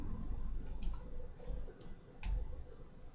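Mouse clicks on a link while a web page is browsed, a few short, crisp ticks spaced irregularly over a low room hum, with no voices.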